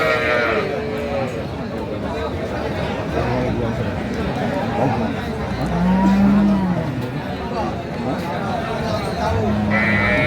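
Cattle at a rural livestock market selling dairy cows and calves in Aftabganj haat, Dinajpur, let out a few low moos amid a busy crowd, with people talking loudly throughout.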